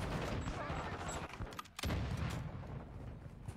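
Rapid bursts of gunfire from a shooting video game, dense and loud with a brief gap midway, under a continuous noisy game soundscape.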